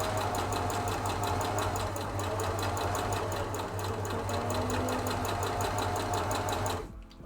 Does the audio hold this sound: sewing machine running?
yes